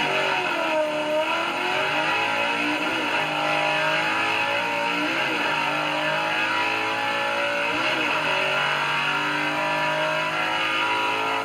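A four-speed drag race car engine revs hard and continuously, its pitch climbing and falling through repeated sweeps, loud and close with a raspy, dense tone and no voices.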